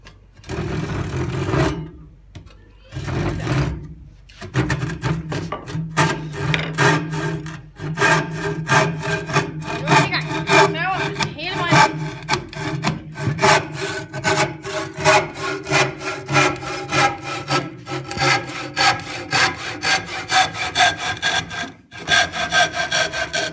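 A hand saw cuts through a wooden plank, with rapid, regular back-and-forth rasping strokes, close and fairly loud, after a few brief pauses at the start, with no talking.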